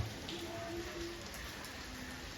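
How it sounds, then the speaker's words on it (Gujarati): Light rain that has kept falling since the early morning makes a soft, steady patter and hiss, faint and continuous with no other prominent sounds. "અત્યારે પણ ધીમો ધીમો વરસાદ ચાલુ જ છે"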